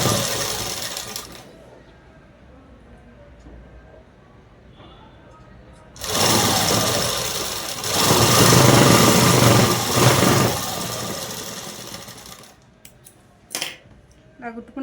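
An electric sewing machine stitches a dress top, running in a steady whirring burst for several seconds before stopping, with quieter handling noises around it.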